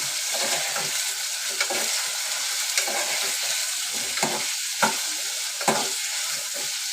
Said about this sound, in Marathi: परतून द्यायची